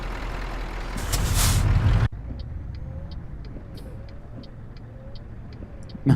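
Road traffic in Euro Truck Simulator 2, with a long loud burst of truck air brake hiss up front, then a steady engine rumble and a regular series of faint high beeps.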